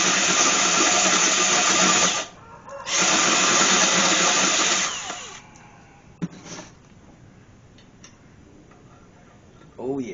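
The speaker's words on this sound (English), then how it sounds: "Step drills pretty fast, but in this case, we want to go slow because we do not want to go past that second step." A step drill bites slowly into metal on a C4 Corvette: a loud, steady grinding whir with a short pause, then a second long run that trails off into a few faint clicks and taps.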